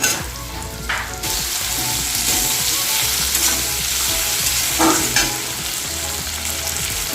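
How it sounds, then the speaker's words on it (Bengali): Potatoes fry lightly in a pan of oil as they are stirred. A loud, close sizzle continues throughout, broken by occasional scraping clicks from the stirring utensil. "এই আলুটা আমি হালকা করে ভেজে নেব"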